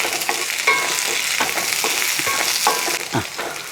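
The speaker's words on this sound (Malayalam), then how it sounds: "ഒന്നോ രണ്ടോ തണ്ട് കറിവേപ്പിനും കൂടി ഇട്ട് അതുകൂടെ ഒന്ന് ഇളക്കി" Sautéed onions with curry leaves sizzle loudly in a pan for an egg curry, broken by repeated scraping strokes of a spoon stirring at a quick, uneven rhythm.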